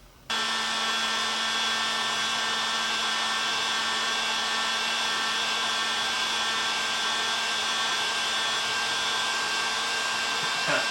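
A heat gun shrinks heat-shrink tubing over a red wire, blowing a loud, steady whooshing drone that starts abruptly and holds unbroken throughout.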